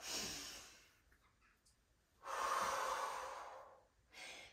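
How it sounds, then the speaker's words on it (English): Deep inhales during a prenatal Pilates exercise, two long breathy breaths close to the microphone with a quieter breath beginning at the end, no talking. "And again, inhale."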